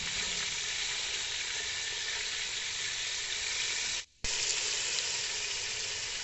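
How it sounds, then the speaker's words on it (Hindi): Potato koftas frying in a pan give a steady, loud, close hiss of sizzling oil that runs continuously, broken only by a brief cut of silence partway through, with no talking. "यहाँ पर सारे कोफ्ते डाल दिए गए हैं। अब कोफ्तों की एक साइड को पकाना है"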